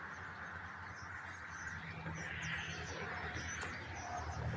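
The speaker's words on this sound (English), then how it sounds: "This is by far the biggest flock of birds to come in this spring." A large flock of birds settles into spring trees in Clay Township, Michigan, with faint, dense chirping and cooing from a distance over a steady outdoor background hush.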